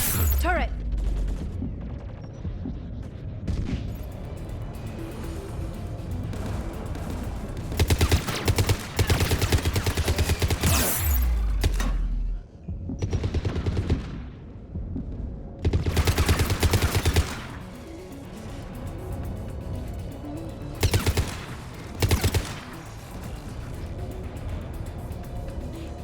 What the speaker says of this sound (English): Oh, a turret